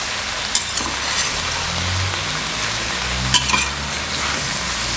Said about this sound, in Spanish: Aquí nada más lo salteamos tantito.